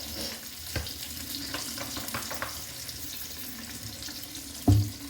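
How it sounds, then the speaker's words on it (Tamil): Oil poured into a hot pan of Andhra chili pickle, a soft, steady sizzle and bubbling with a few light stirring clinks and one sharp knock near the end, no voices. "மறுபடியும் கொஞ்சம் எண்ணெய் ஊற்றிடுறேன்."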